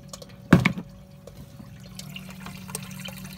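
Water trickles and drips into the tub of a swamp cooler with a pump inside, part of an art studio cooling system. A short splash comes first, then a faint, steady trickle continues alone.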